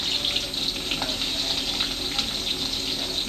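Chopped onions dropped into hot oil for a mushroom dish give off a steady, moderately loud hiss and crackle with no pauses.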